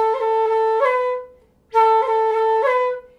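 An Irish flute plays a reel ornament, an A roll followed by a B cut: two short, clear phrases of steady notes with quick flicked grace notes, separated by a brief gap, close and solo.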